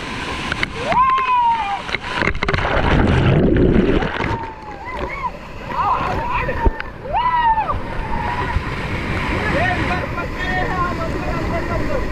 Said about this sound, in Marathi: एवढा मोठा धबधबा आहे ना तर याच्या आतमध्ये जाता येतं